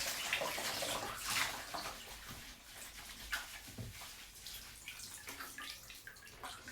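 Water runs steadily from a tap during face washing, a continuous soft splashing hiss with small drips and splashes, heard faintly at low level.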